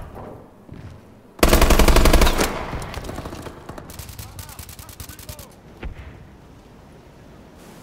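Rapid automatic gunfire in the futuristic shooter Call of Duty: Advanced Warfare, a loud sustained burst followed by quieter scattered shots and game effects.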